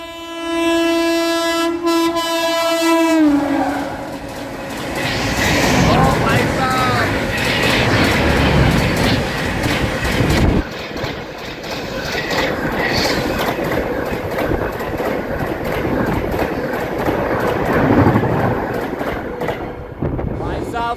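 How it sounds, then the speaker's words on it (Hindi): The Howrah Rajdhani Express speeds through a railway station, opening with a loud horn blast, then a sustained roar of coaches and rattling wheels on the track, close and loud throughout. "फ्लैट 130 में गई है तरतराते हुए ट्रैक साउंड हावड़ा राजधानी"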